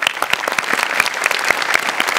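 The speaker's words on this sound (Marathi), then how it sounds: "वा, जोरदार टाळ्या." A live comedy-show audience claps loudly and steadily after a stage performance, a dense burst of applause with a faint voice underneath.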